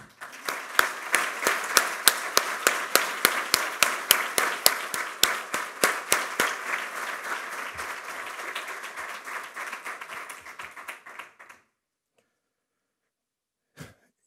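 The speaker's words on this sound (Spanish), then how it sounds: "Y yo quisiera pedir para el doctor Arias un aplauso" An audience at a public health forum applauds, starting with distinct, sharp individual claps that merge into sustained clapping, then fades out around eleven seconds into near silence broken by one last faint sound.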